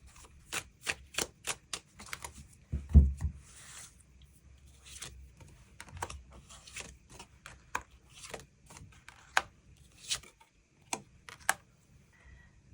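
Tarot cards are handled and drawn in a scattered series of light, close clicks and taps, with a couple of soft thuds, sparse and quiet and without speech.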